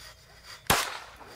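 A single sharp shot from a Taurus TX22 .22 pistol fitted with Tandem Kross accessories during target shooting outdoors, a close crack with a short tail and no talk.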